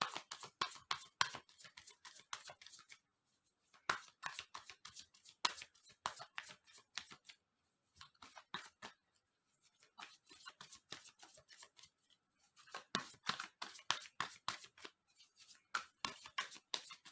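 Tarot cards are shuffled and drawn by hand in several bursts of crisp, rapid riffling and snapping card sounds, with short quiet gaps between bursts and no talking.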